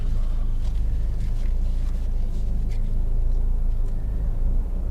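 A car engine hums steadily from inside the cabin while the driver reverses, shifts into first gear and turns right on a dead-end road, a constant low rumble with faint road noise and no voice.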